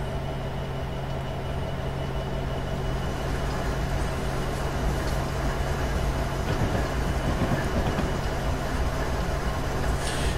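A very long Union Pacific SD70 freight train rolling over the track on Sherman Hill in Train Simulator, a steady droning engine hum and continuous wheel and wagon rumble with faint clanks, unbroken throughout.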